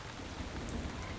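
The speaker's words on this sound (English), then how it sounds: "It's raining." Steady rainfall patters across surfaces in a continuous soft hiss, short and unbroken, with no talking.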